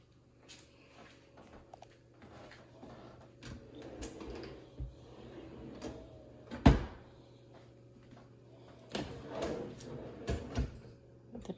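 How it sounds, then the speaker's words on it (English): Soft-close kitchen drawers and cabinets opening and closing, with several muted knocks, slides and one sharper thud near the middle, all fairly quiet and spaced out. "The drawers are soft close."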